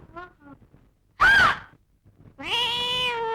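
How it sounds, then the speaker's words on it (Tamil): A cat meows inside a large house room, a single bright rising-and-falling cry standing out between quieter sounds, with a longer harmonic voice following soon after. "பூனை."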